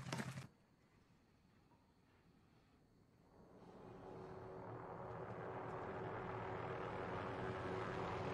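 A helicopter in Call of Duty Warzone, its rotor drone faint at first, then growing steadily louder and closer, after a brief sharp sound at the start.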